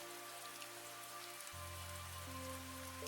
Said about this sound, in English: The rain had already begun before she arrived.